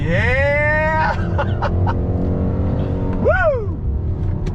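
A 2021 Hyundai Sonata N Line mid-size sedan accelerates hard on a race track, its engine note climbing steadily through the rev range, then dropping briefly and rising again on the next gear, loud and close throughout.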